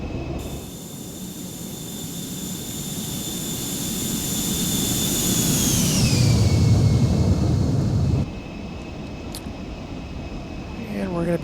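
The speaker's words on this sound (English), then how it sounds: "Rotate. Rotate. Airborne. Positive rate of climb. Gear coming up." Jet engines of an Embraer 195 climbing after takeoff in X-Plane 12, a steady loud roar with high whining tones that bend downward as thrust settles, holding on before stepping quieter, with cockpit callouts over it.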